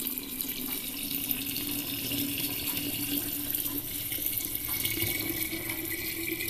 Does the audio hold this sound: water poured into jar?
yes